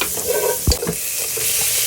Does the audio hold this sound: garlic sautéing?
yes